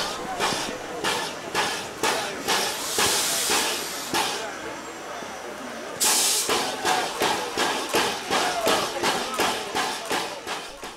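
Steam locomotive Ferdinand on the Gulbene–Aluksne narrow-gauge railway at Aluksne terminus, with loud bursts of hissing steam, a rhythmic series of sharp chuffs and clanks, and background voices.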